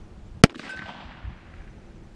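An antique Smith & Wesson .38 revolver loaded with black powder fires a single sharp, loud shot outdoors on a winter late afternoon, followed by a short decay and quiet.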